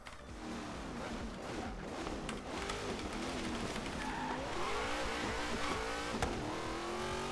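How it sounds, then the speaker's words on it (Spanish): Hot Wheels Twin Mill car in Forza Horizon 3 doing a tire burnout, with loud continuous tire squeal and skidding over a revving, accelerating engine. "Esa quemada de rueda, la tracción que tiene él"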